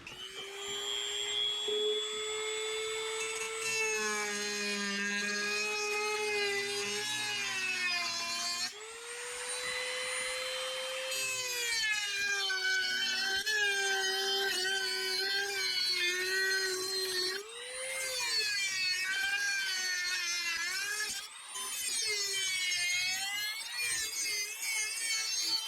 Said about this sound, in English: I went ahead and kind of rounded it all off so there's no sharp edges with the Dremel